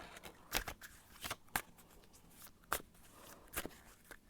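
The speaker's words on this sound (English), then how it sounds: "I'm gonna shuffle and see what the cards have to say." A deck of tarot cards is shuffled by hand, a series of sharp riffling bursts and soft slaps in an irregular rhythm, close and fairly quiet, with no speech.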